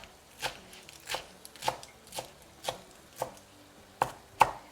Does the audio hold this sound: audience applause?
no